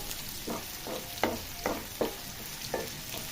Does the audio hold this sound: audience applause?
no